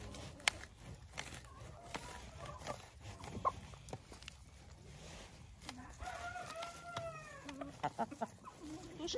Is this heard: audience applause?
no